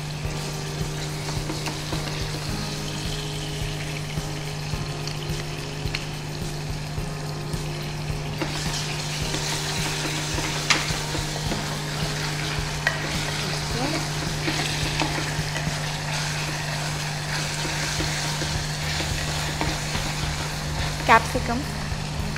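Prawn biryani ingredients fry in a pan until browned, giving a steady, close sizzle with occasional stirring scrapes, while people talk over it.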